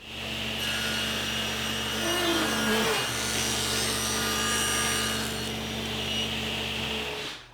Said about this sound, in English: Now I'll flip the molding around and run it back through the saw.